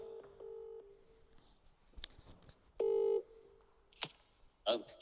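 Touch-tone phone keypad beeps as a call is dialed to reach a prize-draw winner, a handful of short tones spaced irregularly, with a voice speaking between and over them and a couple of brief clicks.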